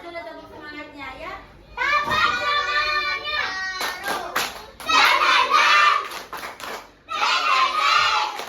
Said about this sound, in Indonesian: Coba kita tes dulu tepuk semangatnya ya.